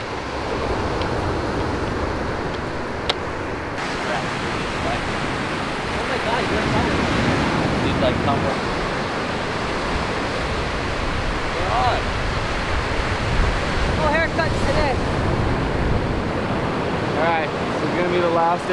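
Ocean surf rolling in on Hawaii's North Shore on a swell day, a continuous loud wash of breaking waves with wind rumble on the microphone, and a faint voice late on.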